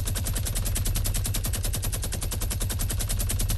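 Sustained automatic gunfire in a video game: a dense, rapid, loud stream of shots that runs without a break throughout, with no talking.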